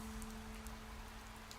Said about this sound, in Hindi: कुछ देर बाद बारिश धीरे धीरे कम होने लगी